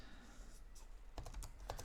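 Computer keyboard typing as code is entered for an Arduino RC robot car: a quick run of close, light key clicks starting partway through, over quiet room hiss.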